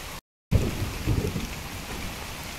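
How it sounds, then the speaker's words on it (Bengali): Heavy rain pours down around a rooftop while deep thunder rumbles close by, rising in low rolling swells after a brief silent gap at the start; no one speaks. "প্রচন্ড পরিমাণের বৃষ্টি নামা শুরু হয়ে গেছে।"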